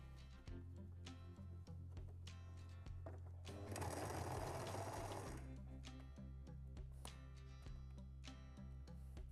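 A sewing machine stitches a small fabric fan case cover, humming steadily in a near, even rhythm. Its whir rises to a louder, denser burst midway, then returns to the steady drone.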